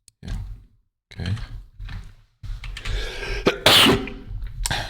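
A single sharp, loud sneeze bursts out near the end, close to the microphone, after a few quieter breathy sounds and pauses indoors.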